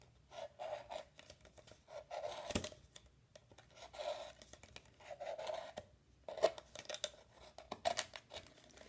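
A blade cuts around a plastic bottle to shorten it, making faint, intermittent scratchy rasping in short bursts.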